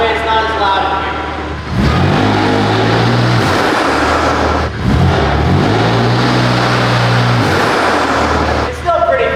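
Loud, close revving from a BMW M4 Competition engine with front mount intakes, climbing and falling in a few repeated surges with brief dips between bursts of throttle.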